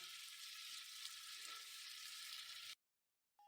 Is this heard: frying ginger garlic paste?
yes